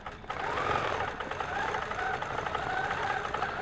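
A sewing machine stitching with metallic thread, a steady mechanical whirring run of rapid stitches lasting a few seconds after a brief quieter start, fairly close and moderately loud, with no talk.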